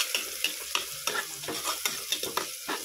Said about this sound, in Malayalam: അപ്പം നമ്മളെ ഉള്ളി നല്ലതുപോലെ താളി വന്നിട്ടുണ്ട്.